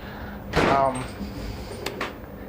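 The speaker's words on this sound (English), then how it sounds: "That was the wind blowing the door shut." Wind pushes a door shut with a single quick thud and rattle about midway, after a person's brief voice. Faint clicks and room noise follow.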